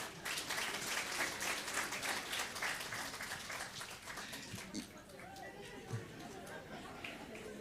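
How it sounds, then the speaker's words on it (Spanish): A church congregation at a New Year service claps, fairly faint and fading after a few seconds into murmuring chatter and scattered voices. "Nuevamente, démosles aplauso."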